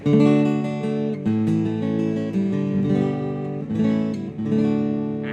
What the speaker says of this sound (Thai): อันนี้เป็นเสียงที่ผมเล่นผ่านตู้แอม